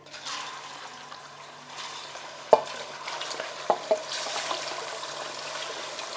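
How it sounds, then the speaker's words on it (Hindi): Meat hits a pot of crackled whole spices for degi korma, bringing a soft steady sizzle with stirring scrapes and a few sharp knocks of a spoon against the pot, close by. "तो यहाँ पर देखिए हम गोश्त ऐड कर देंगे"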